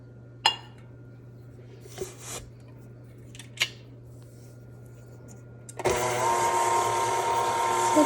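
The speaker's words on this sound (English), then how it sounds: "I just cream that together in my KitchenAid mixer" A KitchenAid stand mixer starts up after a few clicks and clunks and runs loudly and steadily, whirring as it creams butter and sugar for white chocolate almond biscotti.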